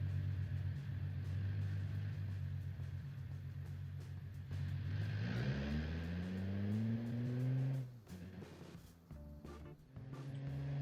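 An Italian car's engine in the Automation video game hums steadily while driving, then revs up with a rising pitch before dropping off as it shifts, loud and continuous with no talk.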